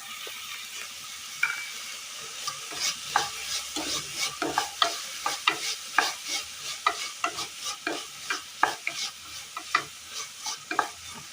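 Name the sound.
curry leaves sizzling as they are stirred into the curry in the pan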